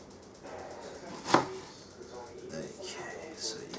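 A knife chops onions on a board in a home kitchen, with one sharp, close thunk standing out and lighter cuts scattered after it. A person talks quietly in the background.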